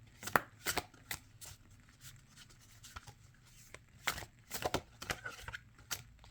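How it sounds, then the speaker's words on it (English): Soft papery flicks and slaps of playing cards in an overhand shuffle by hand, in irregular bursts with short pauses, close and quiet. "this is an overhand shuffle"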